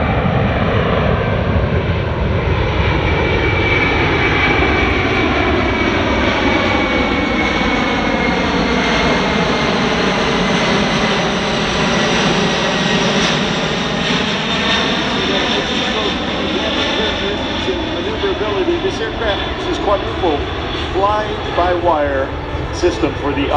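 A US C-17 military transport jet flies past at an air show with a loud, sustained engine roar and a sweeping pitch shift as it crosses from right to left, while a commentator speaks over it.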